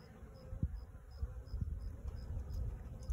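Honey bees buzz steadily around an open barrel beehive during a hive inspection, a continuous close drone with a few louder passes near the microphone.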